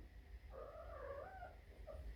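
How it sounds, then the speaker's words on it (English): A domestic cat lets out a short, drawn-out meow with a wavering pitch, close by and moderately loud, followed by a brief softer chirp over a steady low background hum. "Why are you meowing?"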